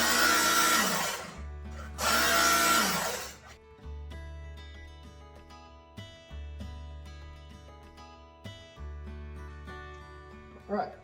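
A Work Sharp knife sharpener grinding a knife blade, several short motor-driven passes of whirring, with pauses between them and loud bursts near the start.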